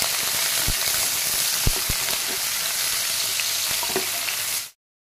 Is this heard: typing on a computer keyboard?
no